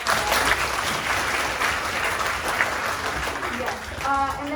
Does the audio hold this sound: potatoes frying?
no